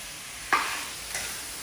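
Chopped tomatoes added to a frying pan for crab kasha, one sharp sizzle and scrape followed by a second softer stir, close, over a faint background hiss.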